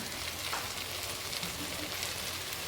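Coconut pieces sizzle and crackle steadily in hot oil in a pan while being stirred for a homestyle chicken curry, a dense, continuous frying hiss close by with no talking.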